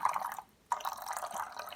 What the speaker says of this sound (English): So I'm going to add the second infusion here. Just pour some water in.